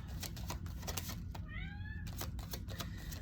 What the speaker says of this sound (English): My cat says hello.